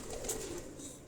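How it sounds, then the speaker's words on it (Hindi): Pigeons at a breeder's rooftop loft near Rawat, Islamabad, coo softly, a brief, faint, low murmuring call with no voices over it. "ये एक मिस्सा कबूतर हमने थोड़ी देर पहले दोस्तों ब्रीडर कबूतरों में चौधरी अब्दुल बासित के कबूतरों में"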